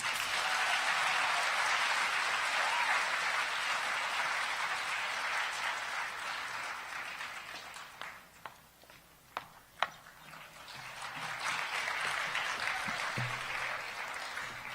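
An audience at an Asian American storytelling event applauds after a speech, sustained clapping that dips midway with a few isolated claps, then swells again.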